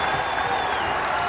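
St. Bonaventure home crowd cheering and applauding in a basketball arena during a game against VCU, a steady, dense roar that holds at one level for the whole brief moment.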